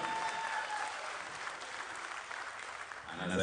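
An awards-night audience applauds a performer, a steady wash of clapping and crowd noise that swells again toward the end, with a voice rising over it in the final moments.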